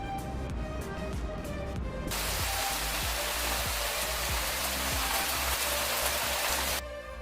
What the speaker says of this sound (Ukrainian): В цю пору року часто йдуть дощі.